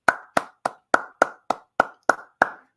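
A single pair of hands claps nine times in a slow, even rhythm, each clap crisp and close with a short decay and silence in between.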